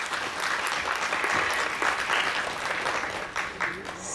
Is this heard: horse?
no